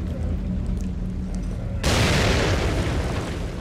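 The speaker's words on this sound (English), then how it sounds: "it takes two grenades to fucking make them blow up for real" A grenade in The Evil Within bursts with a sudden loud boom about halfway through, a broad roaring blast that lingers and rumbles after a quieter ambient stretch, with no talking.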